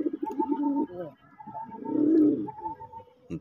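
A pair of red Raj Golla pigeons coo in low, throaty rolling phrases, close and clear, with a louder swelling coo in the middle and a person's voice talking at moments.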